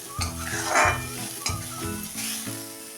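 Grated carrots sizzle and fry in a pan, with the scrape of a spoon stirring several times in a steady rhythm, close by.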